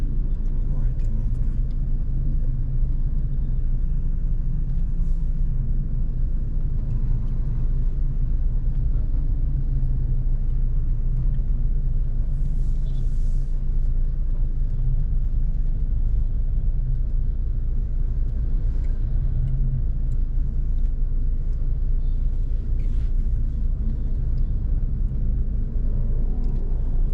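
Steady low rumble of city street traffic in Caloocan City, with engines idling and passing near a road-widening worksite, a continuous dense drone throughout.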